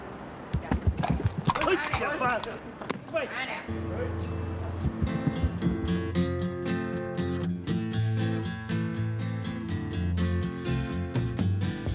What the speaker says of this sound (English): Horse-drawn carriage driving.